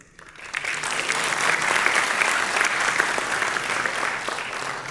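A conference crowd at BECon 2024 at IIT Delhi gives a huge round of applause welcoming Nitin Gadkari to the stage, swelling quickly from quiet into loud, dense, sustained clapping that holds steady to the end.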